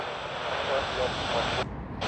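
Aircraft engine roar at Sydney Airport, a steady loud broadband drone holding throughout, heard alone without talk.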